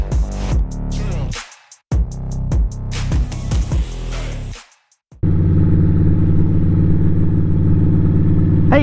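Motorcycle engine on Skyline Drive in Shenandoah National Park: after several seconds of other sounds, a loud, close, steady engine drone starts and holds to the end.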